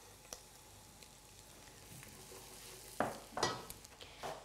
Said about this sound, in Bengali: এবার আমি এতে দেব মিহি করে রসুন কুচি